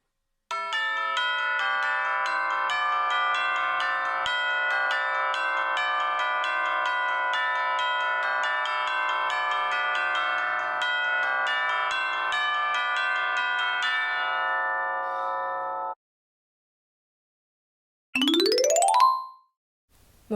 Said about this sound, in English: this instrument is more well known as the chimes